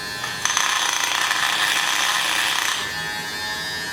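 Electric mixer whipping dalgona coffee, a high buzzing whir that starts abruptly, holds steady for a couple of seconds, then cuts off, close and alone without talk.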